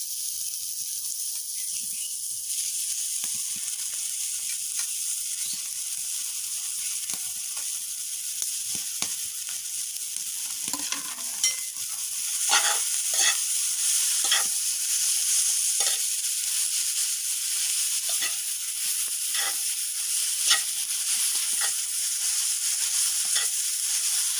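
Jute leaves frying in oil in a pan, a steady soft sizzle and hiss throughout with scattered faint scraping stir strokes, close and without talk.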